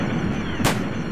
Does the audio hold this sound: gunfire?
yes